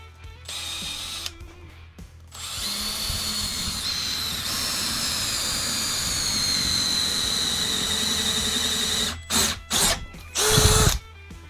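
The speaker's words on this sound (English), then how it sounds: "just take a 1/4 inch drill bit, drill that out." A power drill with a 1/4 inch bit whirs steadily as it bores through a part on a 1989 Harley-Davidson Sportster, a loud continuous whine lasting several seconds, followed by short bursts of the motor revving.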